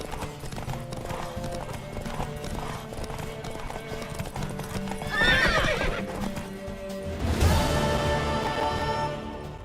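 A horse in The Witcher 3 gallops with rapid, rhythmic hoofbeats, then lets out two loud neighs near the middle and the end, all close and prominent over a faint game soundtrack.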